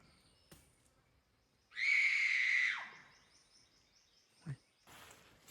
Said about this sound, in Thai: เสียงใครไม่รู้นะครับกรีดร้องจากป่าด้านนู้นนะครับ